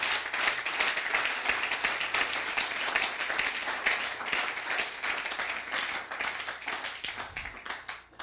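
A church congregation claps and applauds continuously, a dense steady patter of many hands that stays fairly even and alone without talk.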